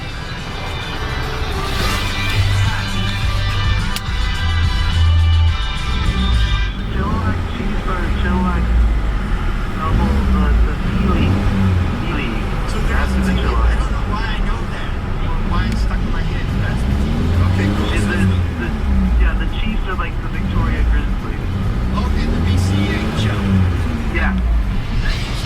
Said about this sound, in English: So let's give it a few revs.